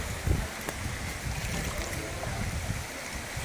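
Fast, powerful floodwater current rushing through a flooded area where cars and motorbikes are submerged, a steady broadband roar of churning water with gusty low rumble, continuous and fairly loud throughout.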